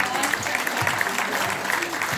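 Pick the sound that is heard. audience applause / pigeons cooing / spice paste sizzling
audience applause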